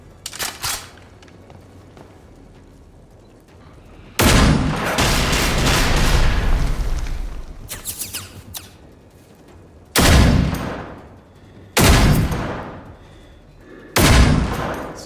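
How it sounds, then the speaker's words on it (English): Loud bursts of gunfire come through a wall in Generation Zero, set in 1980s Sweden with robot enemies. Several sustained volleys of several seconds each are separated by quieter gaps. "Something's shooting me through the wall"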